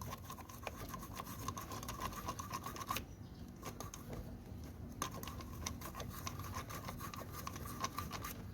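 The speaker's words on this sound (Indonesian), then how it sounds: "bisa sambil di gosok-gosok pakai sikat yang kecil" A small brush scrubs a dirty Yamaha Mio motorbike part with steady, rapid rasping strokes, close and fairly quiet, pausing briefly partway through before the scrubbing resumes.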